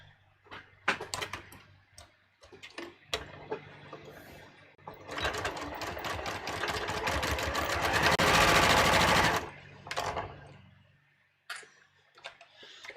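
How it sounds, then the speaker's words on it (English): A sewing machine stitching fabric at a half-inch seam, starting with a few short taps, then running in a fast, even mechanical whir that builds louder before stopping, followed by scattered handling clicks. "So I'm going to just sew this at a 1/2 inch."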